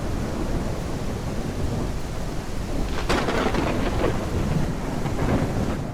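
Thunderstorm in the dinosaur survival game The Isle Evrima: steady heavy rain hiss throughout, with a loud crack and rumble of thunder breaking in about halfway and rolling on to the end, no voices.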